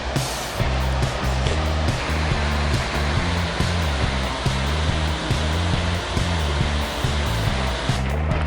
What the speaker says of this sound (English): That's a waterfall you don't want to try and go down to.